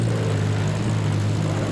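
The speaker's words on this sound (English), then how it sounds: "The engine sounds are awesome, man." Steady, loud drone of a 1935 Grand Prix race car engine in the Assetto Corsa racing game, a continuous low hum held at constant pitch throughout with no voices.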